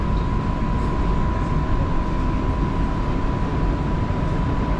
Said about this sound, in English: I just like how the train passes just right through a residential neighborhood.